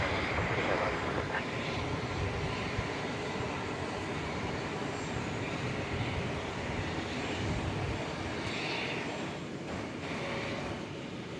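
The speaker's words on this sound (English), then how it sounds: "here comes the Iberia big jet in the setting sun" An Iberia jet airliner passing at a large airport at sunset, a steady broad roar of engines that holds for the whole stretch at moderate distance, with a faint voice now and then underneath.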